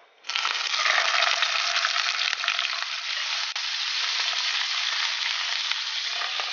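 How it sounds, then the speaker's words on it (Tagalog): Fish dropped into hot olive oil in a pan sizzles loudly and steadily from close by, a dense crackling fry that starts abruptly and carries on without talk. "Pwede na po muna natin i-fry ang ating isda."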